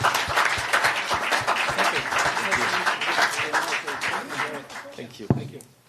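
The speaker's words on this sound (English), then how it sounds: "Round of applause." An audience at a strategy forum applauds a panel, dense clapping with sharp individual claps standing out, slowly thinning and fading toward the end after a final loud clap.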